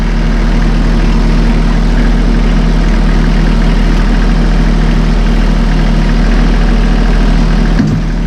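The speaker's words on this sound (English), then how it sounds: "We'll just take a cycle here at idle speed. We'll see the cycle of the loader." A Massey Ferguson 1M.25 hydrostatic compact tractor idles while its front loader raises and dumps, giving a steady, close, low engine drone with a constant hum that runs unbroken throughout, with no talking.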